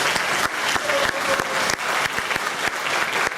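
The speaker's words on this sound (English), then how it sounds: "Give her a big round of applause." An audience at a hall of fame induction ceremony claps for an inductee's family member on stage, a full, continuous round of applause from start to finish.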